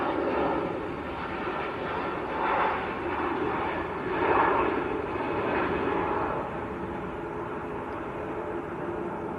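An aircraft at Manchester Airport, a continuous distant jet-engine roar that swells and fades slightly over several seconds, with no clear talking.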